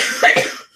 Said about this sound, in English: almost made it through a show without having to cough.